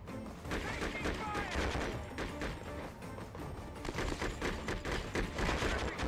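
Gunfire in the PS2 military shooter Conflict: Desert Storm 2, with repeated shots and crashing impacts in a steady, dense battle din over about six seconds, while a voice talks over the action.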